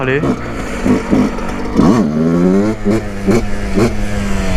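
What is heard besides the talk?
Yamaha YZ125 dirt bike doing a wheelie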